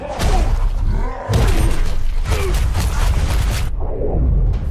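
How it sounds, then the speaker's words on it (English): Injustice fighting game finisher in which Doomsday punches an opponent through the Earth: loud crashing, shattering impacts and booming thuds with whooshes, ending in a heavy rumbling blast. "maybe you'll wake up in hospital having been punched through the centre of the Earth by Doomsday"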